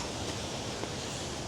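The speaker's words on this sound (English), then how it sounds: "to see the first waterfall here." Waterfall in a river valley heard as a continuous, even hiss of falling water, steady and moderately distant with no talking.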